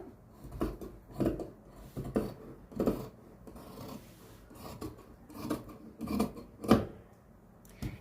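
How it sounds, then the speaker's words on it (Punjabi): Scissors cut through shirt fabric along chalk marks, making about ten crisp snips and rasps in an uneven rhythm, close and fairly quiet. "ਇਹਨਾਂ ਨਿਸ਼ਾਨਾਂ ਤੇ ਆਪਾਂ ਕਰ ਦਾਂਗੇ ਕਟਿੰਗ"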